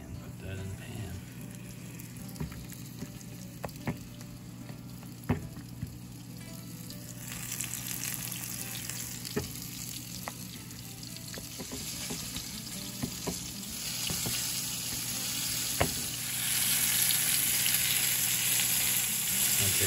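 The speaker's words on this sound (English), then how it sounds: "our oil is hot again and we're going to take our liver. We're going to put it into the flour here. Just coat it lightly and put that in the pan." Thin, flour-coated slices of liver hit hot oil in a pan and sizzle steadily, with a soft crackle that grows louder and brighter toward the end, along with occasional clinks of utensils.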